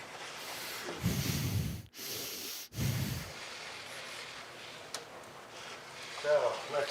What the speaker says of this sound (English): Listen to him breathing heavy.